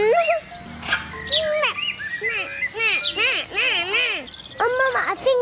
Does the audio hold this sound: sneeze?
no